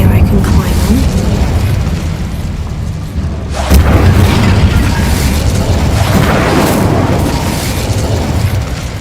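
A fiery Incendio spell is cast in a video game, giving a booming burst of flame about a third of the way through over a steady rumbling, noisy game background.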